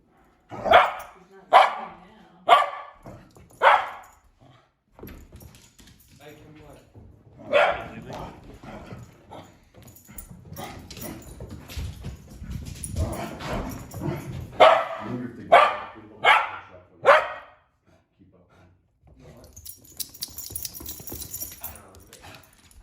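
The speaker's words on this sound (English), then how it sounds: "a cooped-up neighbor dog gets his yayas out" A cooped-up neighbour's dog barks in loud bursts of several sharp, close barks, with a quieter noisy stretch in the middle before another run of rapid barking, then near silence.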